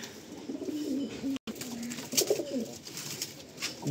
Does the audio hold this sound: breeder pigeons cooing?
yes